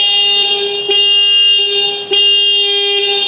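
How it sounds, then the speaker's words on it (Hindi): A Bajaj Pulsar 125 motorcycle horn beeps in a steady, buzzy tone, held with brief breaks between a few presses, loud and close. "पहले हम लोग देखते हैं पल्सर का हॉर्न।"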